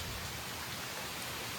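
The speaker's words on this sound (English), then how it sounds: "Cold and raining" Steady rain falls outdoors among oak trees and ferns on a cold day, a soft, even hiss of light rain that holds constant throughout with no voices.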